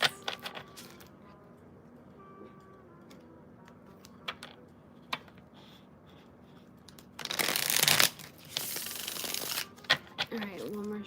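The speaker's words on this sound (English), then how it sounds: "Alright, one more shuffle." A tarot deck is shuffled by hand, mostly faint scattered ticks and clicks at first, then a louder burst of riffling cards near the end with a quieter flutter after it; faint talk sits underneath.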